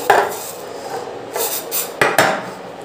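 Metal cookware being picked up and set down on a Usha 3616 induction cooktop, a few scraping clatters and light knocks spread across a few seconds, close by with no talking.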